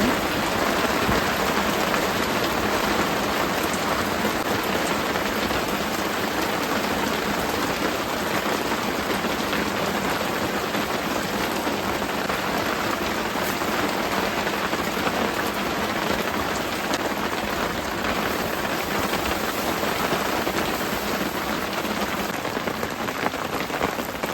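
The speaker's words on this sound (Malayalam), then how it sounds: "മുറ്റത്ത് പെരും മഴ കേട്ടോ" Heavy rain pours steadily and evenly onto a yard, a dense continuous hiss of drops hitting the ground with no voices.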